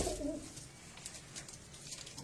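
A Blank Check pigeon cooing softly and briefly at the start, faint and close, followed by quiet room ambience with light clicks.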